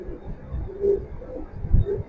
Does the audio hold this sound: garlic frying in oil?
no